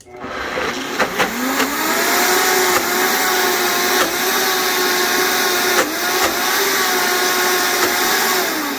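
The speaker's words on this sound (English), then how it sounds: "We're gonna pulse it a little bit more. Are you ready to start pulsing?" A blender pulses a vegan chicken nugget mixture, its motor whirring loudly and continuously for the full stretch, with a few short dips and bumps in pitch.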